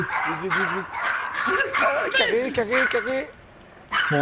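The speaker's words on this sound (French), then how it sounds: "Hop, c'est mon chien." A dog barks and yips repeatedly in short bursts, loud and close, with people talking in French around it.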